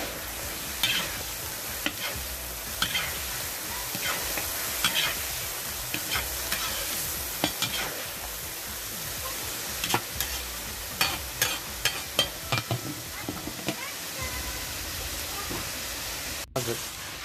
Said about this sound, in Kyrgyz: Etти буруп алабыз. Мындай кызартып.